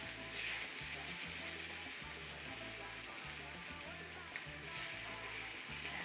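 Vegan carne asada meat sizzles in a cast iron skillet, a steady, even hiss of frying that runs the whole time under a repeating, rhythmic low musical beat.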